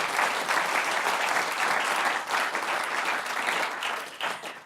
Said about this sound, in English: please give a big round of applause to my wonderful panelists.